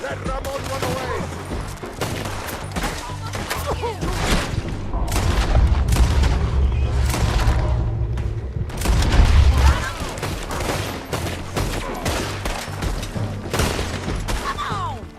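Dense gunfire from a Red Dead Redemption 2 shootout, with rapid overlapping shots and heavy low booms running throughout at close range and loud volume, while voices shout beneath the firing.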